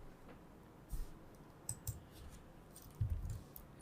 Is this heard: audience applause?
no